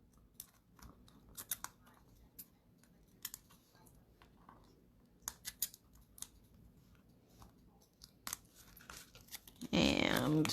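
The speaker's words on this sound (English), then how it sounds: "I'm going to put some foam tape on the back of that." Quiet scissors snips and small tape handling sounds as foam tape is cut and pressed onto a paper sentiment, sparse close clicks and rustles, ending in a louder crinkling burst.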